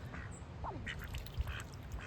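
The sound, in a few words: duck quacking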